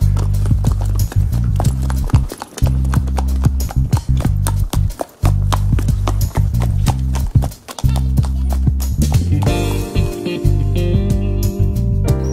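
Horse hooves clip-clop in a quick, steady rhythm on a hard surface, close by, with brief gaps and a faint whinny-like sound near the end.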